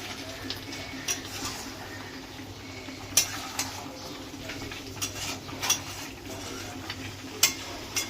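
Spiced curry with ripe tomatoes and green chillies is stirred in a cooking pot, giving intermittent scraping clinks of a spoon against metal over a soft low bubbling, near and moderately loud, with no talking.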